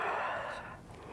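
A single long, breathy exhale close to the microphone, strong at first and fading away over about a second.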